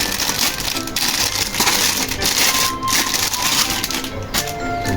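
A white toy police car is unpacked from its packaging, producing dense, continuous crinkling and rustling close by, with a few sharper crackles throughout.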